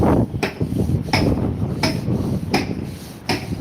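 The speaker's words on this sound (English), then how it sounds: "It's certainly bashing something with a lump hammer." A lump hammer bangs on metal on a tractor, a series of sharp clanging strikes at irregular intervals, loud and close, with outdoor rumble between blows.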